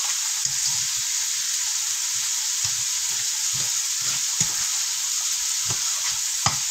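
Bacon frying in a pan for a cheddar green bean casserole, a steady bright sizzle with soft irregular pops and crackles running throughout, close and alone with no talking.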